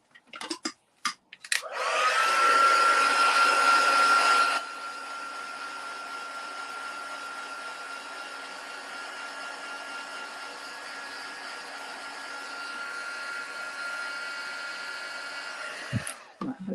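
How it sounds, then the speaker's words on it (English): A heat gun blowing to dry ink on a papercraft project, a steady loud whoosh with a thin whine that drops slightly in level after a few seconds and runs continuously until clicked off. "I'm just going to give it a blast with my heat gun"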